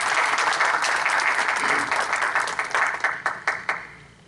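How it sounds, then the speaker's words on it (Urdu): An audience at an Urdu Academy tribute event applauds loudly and steadily, the clapping thinning into a few scattered, separate claps before fading away. "ان کے لیے ایک بار پھر زوردار تالیاں"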